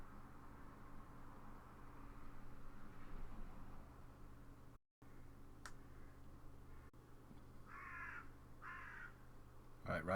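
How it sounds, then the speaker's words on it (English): Crows caw twice in quick succession in the video game Aliens: Fireteam Elite, fairly faint against a steady hiss of ambient noise. "Right, random crows."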